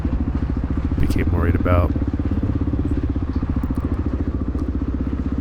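A Honda XR600R motorcycle engine thrums steadily as it rides downhill on a cross-country dirt course, its rapid low pulsing continuous and close, with a rider's voice briefly heard over it.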